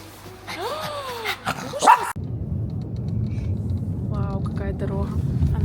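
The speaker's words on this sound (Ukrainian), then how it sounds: "А моя собака орет. Що це за собака такая?" A dog barks and yips nearby in short, sharp bursts, with people talking and some steady background noise.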